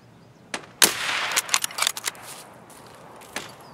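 Gunfire in the video game Escape from Tarkov: a burst of sharp shots cracks in quick succession, then a final isolated shot after a pause, loud against a quiet background.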